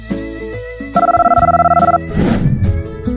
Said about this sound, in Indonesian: Suatu malam, Emily mendapat telepon